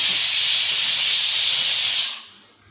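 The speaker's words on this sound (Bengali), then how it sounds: "তো চলো আরেকটা সিটি পড়লে অফ করে দেবো" A pressure cooker whistle releases steam in a loud, steady hiss on a home kitchen stove while rice or vegetables cook, holding for about two seconds before cutting off abruptly and leaving only faint background.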